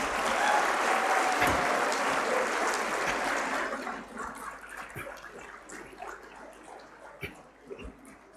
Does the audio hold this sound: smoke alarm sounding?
no